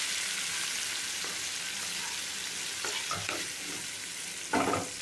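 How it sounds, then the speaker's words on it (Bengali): Ginger paste, chili paste and ground cumin fry with tomatoes in oil, a steady close sizzle with a few soft stirs and a louder scrape of the spatula near the end, no voices. "এবার এটাকে একটু কষবো"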